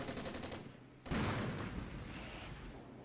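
Mortar fire in the war game Armored Brigade: a steady rumble of battle breaks into a loud, close blast of gunfire that rolls on and slowly fades.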